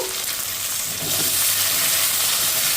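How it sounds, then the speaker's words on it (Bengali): Chopped onion and tomato fry in a pan for a fish curry, a steady hiss of oil that swells louder partway through as the stirring picks up, with a spatula scraping faintly beneath. "পেঁয়াজ আর টমাটোটাকে আমি ভালো করে একটু নেড়ে চেড়ে কষিয়ে নেব"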